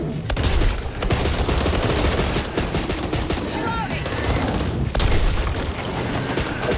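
Sustained automatic gunfire in Back 4 Blood, loud rapid bursts with heavy booming impacts layered throughout, near and continuous, with brief voices mixed in.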